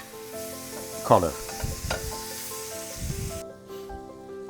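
Sun-dried tomato hits a hot pan with garlic and sizzles, with a sharp burst of frying and stirring scrapes in the middle under a brief spoken word over a steady background tone.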